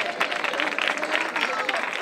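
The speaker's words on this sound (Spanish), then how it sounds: "le vamos a dar ya un aplauso muy grande" Crowd applause and cheering at a carnival troupe presentation in Tarifa, 2023, a dense steady wash of many hands clapping with a lively hubbub of voices throughout.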